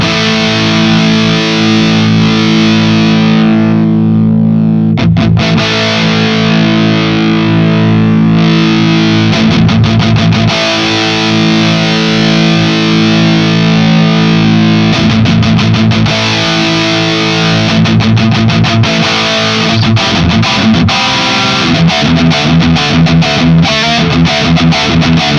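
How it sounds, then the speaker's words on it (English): An electric guitar runs through a TS overdrive boost on a NUX Mighty Plug headphone modeller amp, giving sustained, saturated distorted chords with rhythmic choppy strums that carry on without a break. "Let's try out the classic thing where we boost this with a TS drive."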